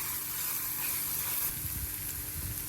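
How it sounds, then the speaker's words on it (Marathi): Ground green chili, garlic and cumin frying in hot oil in a pan for a radish-leaf bhaji, giving a steady close sizzle with soft stirring scrapes, no talking. "आपण ते वाटलेलं हिरवी मिरची, लसूण आणि जिरं हे पण तेलात मस्त फ्राय करून घेऊया."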